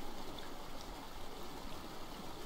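A flowing stream in the video game Mind: Path to Thalamus gives a faint, continuous watery hiss and burble, steady throughout.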